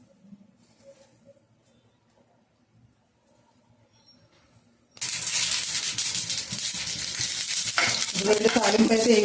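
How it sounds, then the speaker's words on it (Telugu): Tempering seeds dropped into hot oil in a pan, starting as a sudden loud sizzle that keeps crackling steadily, with brief stirring sounds. "ఇదిగోండి తాలింపు అయితే వేగుతా ఉంది కదా,"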